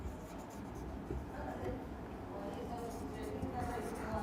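Quiet scratching of writing on a board during a class 10 physics lesson on electricity, continuous and faint over room noise.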